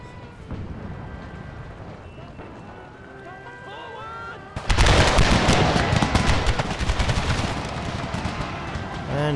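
Volleys of musket and cannon fire crackle out in a Civil War strategy game battle at Bull Run, starting abruptly midway after quieter ambient sound and continuing as a dense, loud rattle of shots.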